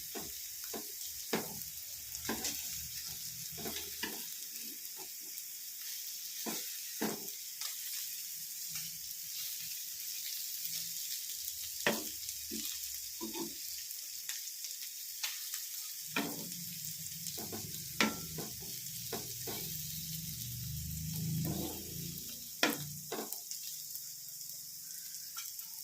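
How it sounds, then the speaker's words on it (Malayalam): Small nethal fish (anchovies) crisping in a spoonful of oil, heard as a steady low sizzle broken by repeated scraping stirs and clinks of a spoon against the pan. "1 സ്പൂൺ എണ്ണയാണ് ഒഴിച്ചത്. നല്ലപോലെ മൊരിച്ചെടുക്കാം നമുക്ക്."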